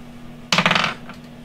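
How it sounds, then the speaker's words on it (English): Dice clatter onto a table in one quick burst of rapid hard clicks and bounces, lasting under half a second, close and distinct over a faint steady hum. "I was rolling my dice"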